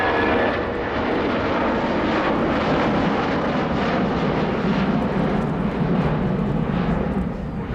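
A Royal New Zealand Air Force Boeing 757-2K2 flies a low orbit with its landing gear down at an airshow, giving off a steady, broad jet engine roar at moderate distance that holds without letup.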